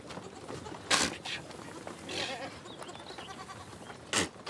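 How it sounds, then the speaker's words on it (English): Goats bleating as their kids suckle in a field at Al-Ayn oasis, with several loud, close bleats standing out at intervals over soft rustling and faint birdsong. "helps her goats suckle their young"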